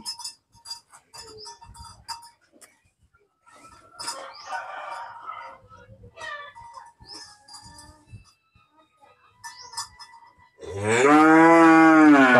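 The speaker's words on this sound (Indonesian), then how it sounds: "Ini di kandangnya Mas Edi" Cattle low loudly in a cattle barn, one long close moo near the end after a stretch of quieter barn clatter, clinks and faint animal sounds.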